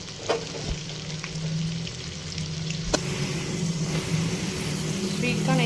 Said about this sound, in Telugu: సిమ్లో సిమ్లో పెట్టుకొని వేయించుకోవాలి